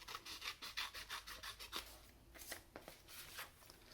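Scissors snip through paper while a llama-shaped card is cut out, with a quick run of close, rhythmic rasping cuts followed by a few slower, softer snips.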